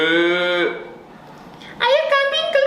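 Human voice imitating a goat bleating, with two drawn-out, wavering bleats separated by a short pause, close and clear.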